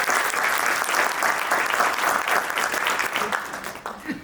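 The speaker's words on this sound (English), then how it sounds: "One big round of applause," Sustained applause from an audience fills the air, dense and steady, fading slightly toward the end.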